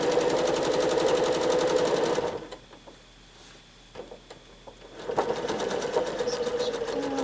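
Sewing machine stitching free motion quilting lines, a loud rapid mechanical stitching hum that stops for about three seconds of near quiet with small clicks, then starts again at full speed.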